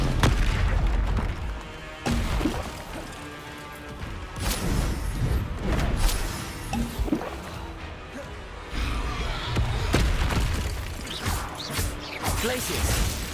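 Explosive blasts of the Bombarda spell in Hogwarts Legacy, with repeated loud booms and crashes mixed among other spell impacts during combat, under a voice calling out spell names.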